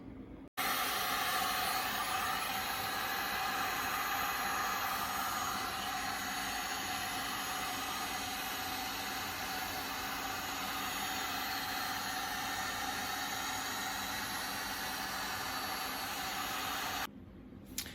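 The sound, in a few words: heat gun heating stainless steel motorcycle exhaust pipes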